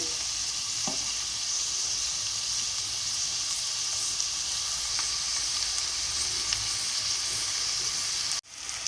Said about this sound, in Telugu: ఉల్లిపాయలు పచ్చిమిరపకాయ ముక్కలు కొంచెం వేగుతూ ఉన్నాయి.